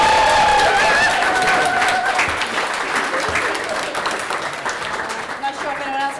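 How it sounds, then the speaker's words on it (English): A big round of applause with some cheering rises from the audience at a song-and-dance show's closing, loud at first and gradually thinning, with voices mixed in. "give these guys one huge round of applause"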